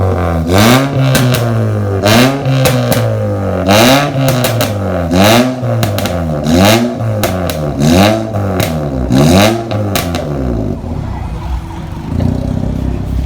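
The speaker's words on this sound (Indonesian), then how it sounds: "Dan ini suara si Brio waktu masih pakai muffler yang DK01 versi 2." A Honda Brio with a DK01 version 2 aftermarket muffler revs again and again, its deep raspy exhaust note rising and falling in rhythmic pulses, loud and close before it settles to a rumble.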